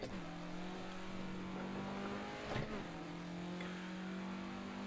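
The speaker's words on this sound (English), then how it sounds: "I like the car noise to kind of be how I hear it." A 1967 Formula Ford race car engine in the Assetto Corsa racing game drones at a steady high pitch, with a brief gear shift or blip midway before settling back into a constant, moderately quiet hum.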